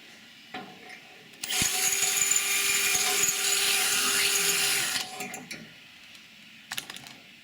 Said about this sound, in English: first drilling a pilot hole through the existing hole in the bracket